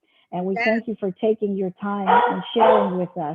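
Dogs barking indoors during a virtual meeting, sharp repeated barks and yips behind and between a person speaking, fairly close and intermittent.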